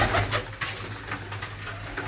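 Pigeons coo in low, repeated throaty phrases close by, steady and unbroken, with no talking.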